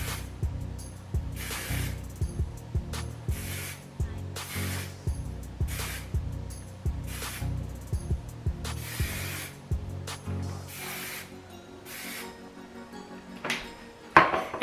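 Hairspray is sprayed onto short hair in repeated short hissing bursts, about a dozen quick close spritzes with brief pauses between them, plus faint handling rustles and no talking.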